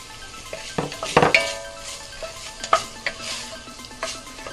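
Onions stirred and sautéed in a pan for lasagne: a spoon scrapes and clinks against the pan in a few distinct strokes over a soft, steady sizzle, close and moderately loud.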